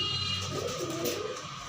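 Pigeons in a pigeon shop, soft low cooing up close over a steady background hum, with no one talking.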